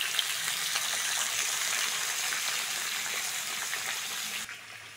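Pieces of raw banana, potato and papaya fry in hot oil, giving a steady, even sizzle and crackle that holds for several seconds before dropping off slightly at the end.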